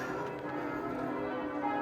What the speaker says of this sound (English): There go the bells.